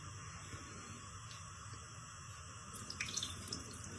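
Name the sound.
washing cut potatoes in a bowl of water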